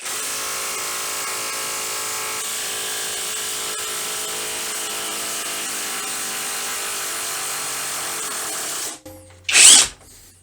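Whirring, high-pitched brushless Dedra DED7147 450 Nm cordless impact wrench running steadily for several seconds, then a pause and a short loud burst as a large screw comes free.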